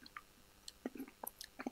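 Close, quiet chewing of chocolate chips, with a series of small wet crunches and squishy bites in an irregular rhythm and no talking.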